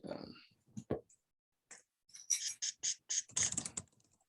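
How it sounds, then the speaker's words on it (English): Typing on a computer keyboard: a quiet, close run of individual key clicks that comes in a short burst, then a pause, then a quicker cluster of taps, with a brief murmur of voice at the start. "I mean, like go ahead and type something in."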